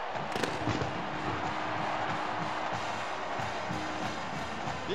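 Fireworks pop and crackle over a steady crowd roar at an outdoor college hockey game in a football stadium, with sharp bursts early on and then a continuous dense noisy wash.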